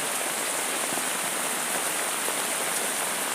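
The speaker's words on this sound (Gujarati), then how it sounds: "તો મિત્રો આપણે આવો વરસાદ પડે છે તમે જોઈ રહ્યા છે" Steady rain falls continuously, a dense even hiss with scattered drops pattering on a surface, no voices.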